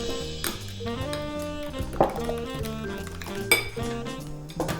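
A spoon clinks and scrapes against a bowl while molasses is stirred into a chocolate zucchini muffin batter, producing repeated ringing taps and a few louder knocks over steady mixing.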